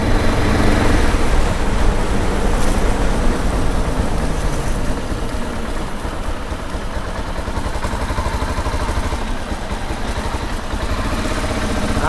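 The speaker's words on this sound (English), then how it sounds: "Cruising around 30 miles an hour, and we're going to test the volume to see what kind of sound quality we get" A motorcycle cruises at about 30 miles an hour, recorded on a waterproof Sennheiser MKE 2 Elements microphone. Loud, constant wind rush and engine rumble run throughout, and no one speaks.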